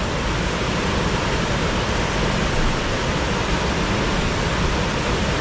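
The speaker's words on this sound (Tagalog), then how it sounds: "Mabilis ngayon yung tubig yan eh." Fast-flowing river water during a salmon run in Canada rushes in a dense, constant roar, loud and close, with no voices.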